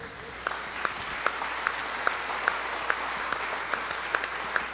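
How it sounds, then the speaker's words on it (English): Applause from the crowd at a state fair sale of champions livestock auction, steady clapping under a hall's background murmur, with sharper individual claps standing out at a regular pace, close by. "I think we need to give them all another round of applause for that."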